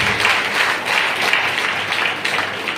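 A congregation at a church sermon claps loudly, dense sustained applause with rhythmic surges, close and continuous throughout with no talk.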